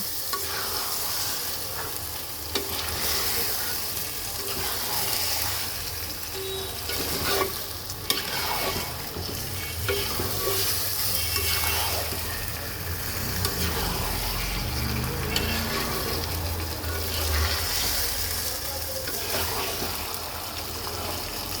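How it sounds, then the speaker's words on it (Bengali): Mutton curry masala stir-fried in a pan with steady sizzling and frying, the spatula scraping and stirring continuously throughout, loud and close with no voices. "এইবার খুব সুন্দর করে সময় নিয়ে কষাতে হবে"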